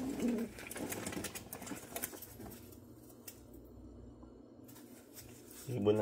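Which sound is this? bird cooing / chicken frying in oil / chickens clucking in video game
bird cooing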